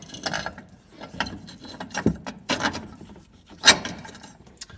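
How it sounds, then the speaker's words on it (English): A hand ratchet tightens nuts on the shock tower of a 2010 Dodge Ram 2500 truck during shock replacement, giving a few short bursts of clicking with pauses between them, close and fairly quiet. "So I'll go ahead and torque those bolts down, or those nuts down"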